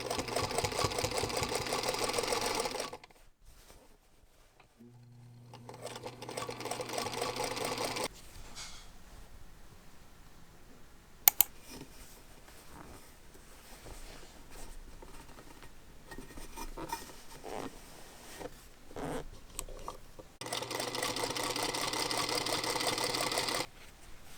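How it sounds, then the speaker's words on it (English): A serger sewing a sleeve hem on shirt fabric: steady, fast mechanical whirring runs of several seconds each at the start, middle and end, close and fairly quiet, with handling clicks and rustles between. "for the hem of the sleeve, I'm going to serge and press before attaching it to the bodice"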